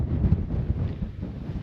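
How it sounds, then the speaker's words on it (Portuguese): A strong mountain gust buffets the microphone with a rough, low roar that surges and pulses for a moment, near and loud, with no talking. "tá uma rajada de vento forte aqui"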